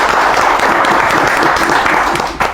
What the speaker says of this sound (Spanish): merece un aplauso para el PRD